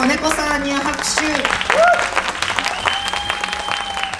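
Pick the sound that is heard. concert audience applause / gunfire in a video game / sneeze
concert audience applause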